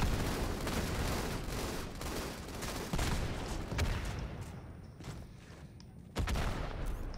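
Sustained gunfire in Halo 2, dense rattling bursts from several weapons layered into a continuous loud barrage with sharper cracks standing out.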